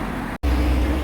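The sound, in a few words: bus approaching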